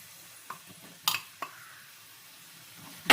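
A spoon stirs turmeric and chili powder into a fish pickle mixture in a pan, giving a few scattered scrapes and clinks against a faint low sizzle, the last scrape loudest.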